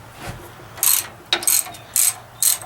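A ratchet with a 12mm socket loosens bolts on a Jet-16 milling machine, giving several short, crisp bursts of clicking, close by and alone.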